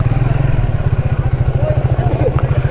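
A motorcycle engine idles close by at a border crossing, a loud rhythmic low chugging that pulses evenly throughout, with faint background voices.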